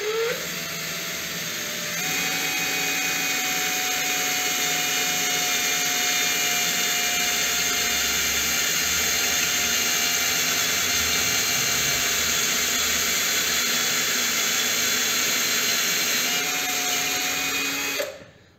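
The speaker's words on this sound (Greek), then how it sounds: "Την τρύπα την κάνουμε σιγά σιγά και δεν χρησιμοποιούμε κάποιο τρυπάνι με κρούση" A steady electric drill whine runs continuously for nearly twenty seconds, loud and close, drilling slowly without hammer action, with a slight pitch shift near the start and a brief fade at the end.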